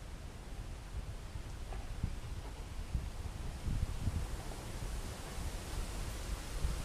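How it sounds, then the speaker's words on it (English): Outdoor wind gusting across a microphone beside a river town during plein air painting, a soft continuous rushing hiss with low buffeting rumbles that swell and fade. "every time I start, I just get a wind gust"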